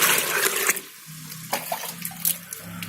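Water scooped and poured into a 5-liter paint bucket while preparing a betta fish breeding setup, a loud splashing pour at first, then quieter trickles and small splashes.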